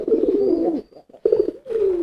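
Homing pigeons coo in low, throaty bursts, a close rolling call that pauses briefly and then resumes.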